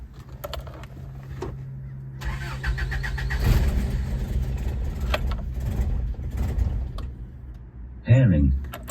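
A cold 1988 Isuzu Trooper engine cranks, fires and settles into a steady, fairly loud idle with a rough, hunting note, a voice briefly speaking near the end.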